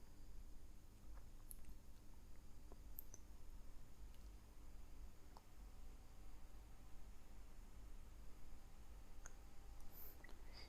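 Several crisp computer mouse clicks scattered over a quiet background hiss, each click brief and close, with no talking.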